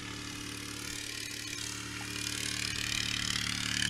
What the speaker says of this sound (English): Listen to that low compression engine.